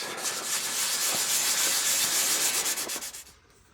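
Rapid back-and-forth scratching of sandpaper on a maple-top guitar body, close and hissy, stopping abruptly near the end.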